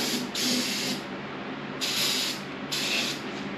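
Carburetor cleaner sprayed from an aerosol can onto an old Suzuki four-wheeler that hasn't run in years, in three hissing bursts of roughly half a second to a second each, close and steady.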